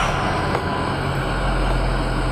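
Ford 6.0 Powerstroke diesel truck engine, already running, with a loud, steady, close rumble and no clear cranking heard.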